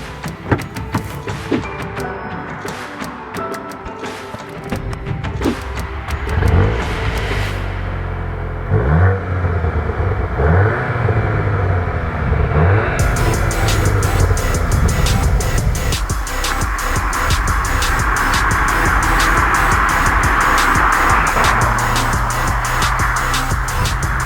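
A 2021 Cupra Leon VZ2 hot hatch with a 2-litre engine on the road, its engine droning and rising through gears in repeated surges, then settling into a steady, loud cabin roar.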